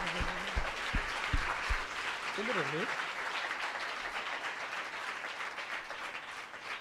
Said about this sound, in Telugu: చప్పట్లు కొట్టుట అనగా చేతులు ఊపుట కాదు సౌండ్ రావాలి